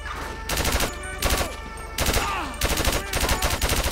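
Rapid automatic gunfire rattles in bursts in Grand Theft Auto 5, loud and close, stopping and starting several times over a steady low background rumble.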